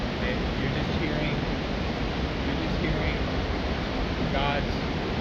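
A river flows steadily outdoors during a riverside Bible study, a constant broadband rush of water that holds loud and even from start to finish, with faint voices mixed into the background.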